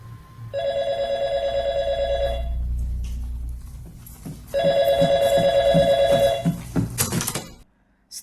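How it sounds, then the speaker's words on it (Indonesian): An old-style telephone bell rings in two long trilling bursts separated by a short pause, close and loud in a quiet room at night, with faint clicks and a low rumble underneath. "Setiap jam, telepon itu bunyi lagi cuy."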